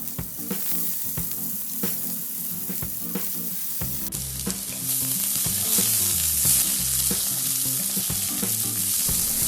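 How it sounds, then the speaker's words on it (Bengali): Cut eggplant frying in hot oil in a wok, with a close continuous sizzle and rhythmic stirring scrapes that grow louder and denser partway through. "তেল গরম হলে কেটে রাখা বেগুনগুলো দিয়ে দেব। বেগুনগুলোকে একটু নেড়ে হালকা করে ভেজে নেব।"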